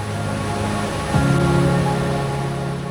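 Cold Yamuna river water rushing near Yamunotri temple, a steady broadband wash of flowing water, close and continuous, with a brief low swoosh partway through.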